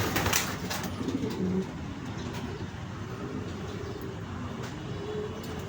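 A low, soft racing pigeon coo repeats a few times against a steady outdoor background hum, fairly close but not loud.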